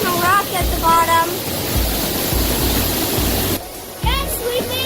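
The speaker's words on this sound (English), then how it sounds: "Here's the waterfall." Water at White Oak Canyon in Shenandoah National Park roars in a constant broadband rush, while high bird-like chirps and faint voices sit over the steady flow.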